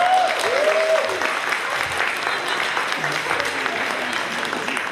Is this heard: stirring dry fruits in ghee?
no